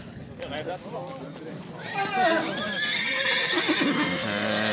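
A horse whinnies loudly amid a noisy crowd at the Osh bazaar in Kyrgyzstan, people talking nearby, with ongoing market bustle in the background.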